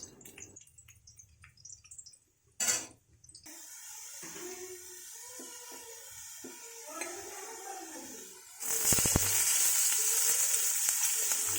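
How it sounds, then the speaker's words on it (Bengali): Cut potatoes fry in hot oil in a village kitchen, a crackling sizzle broken by a sharp clatter, then swelling into a louder, denser hiss near the end. "আলু কেটে নিয়েছিলাম আগেই সেই আলুগুলো ভেজে নিচ্ছি"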